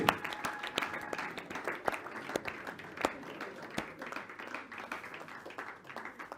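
A church congregation applauds at a conference in Kinshasa, with a steady patter of many hands clapping, a few sharper claps standing out and faint voices underneath.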